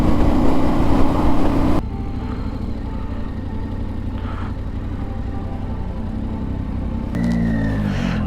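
A Yamaha Tenere 700 World Raid motorcycle rides along a Devon seawall road, its engine a steady mid-pitched rumble under wind noise, louder at the start and easing into an even, continuous drone.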